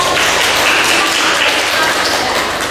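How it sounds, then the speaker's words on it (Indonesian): A university class applauds a student's answer during a biology teaching session, a loud, dense, continuous round of clapping close by that holds steady throughout with no talk. "Tepuk tangan semua."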